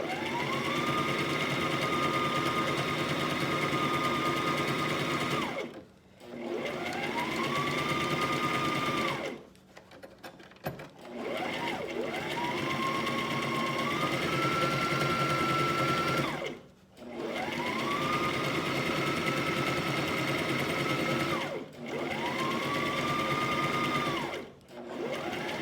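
Sewing machine stitching fabric for a handmade Mother's Day gift, running in long steady whirring bursts that ramp up in pitch, separated by short pauses, close and loud without talk.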